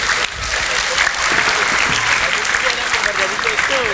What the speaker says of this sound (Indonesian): Beri aplaus untuk Mas Asbar Hamid Khan